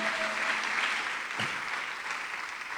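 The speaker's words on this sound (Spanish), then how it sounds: "Denle fuerte las palmas al bendito Rey" A church congregation applauds, a dense, steady wash of clapping heard from within the crowd, continuous throughout with no voices rising above it.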